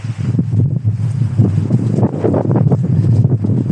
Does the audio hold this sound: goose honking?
no